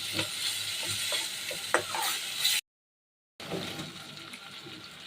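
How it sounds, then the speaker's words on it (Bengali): Dried fish stir-fried with spices in a pan, a continuous close sizzle with scraping stirs, broken by a brief gap of silence before the frying resumes. "মশলার সাথে শুটকিটা ভালো করে কষিয়ে নেব"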